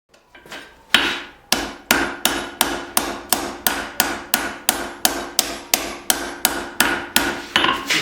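A hammer strikes a hot knife blade with an integral bolster on an anvil in a steady, evenly spaced rhythm of about two blows per second, each one a sharp, ringing metallic clang, loud and close, with no voices.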